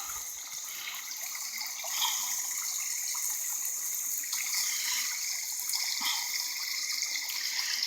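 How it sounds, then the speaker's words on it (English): Creek water after a rise flows steadily outdoors, a continuous hissing rush that is fairly faint and even throughout, with no talking. "I think the creek water has risen."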